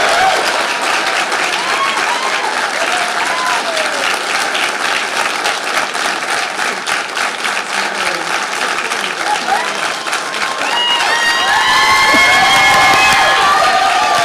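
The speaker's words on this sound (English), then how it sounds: "Much applause, well deserved." Loud, sustained applause from a large crowd at a graduate social work pinning ceremony, with cheering and shouts rising toward the end.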